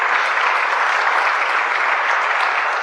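Congregation at a church service applauding God, with dense, steady clapping from many hands sustained at an even loudness throughout.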